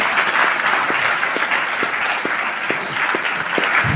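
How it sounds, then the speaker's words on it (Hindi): Loud, sustained applause from an audience at a Hindi-language seminar, a thick continuous roar of clapping with a few sharper individual claps standing out near the front, and no talking over it. "मिस्टर रविंद्र रघुन सर के लिए जबरदस्त ताली"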